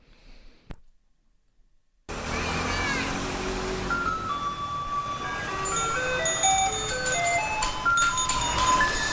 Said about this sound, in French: c'était le son du camion poubelle